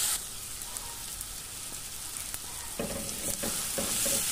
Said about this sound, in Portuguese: o alho para fritar tudo junto